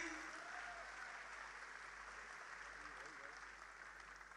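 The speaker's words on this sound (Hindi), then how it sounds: "एक बार जोरदार तालियां होनी चाहिए।" Audience at an IMC event product launch applauds an actor serving as brand ambassador: a steady, fairly faint wash of clapping that fills the whole stretch, with a faint voice or tone over it.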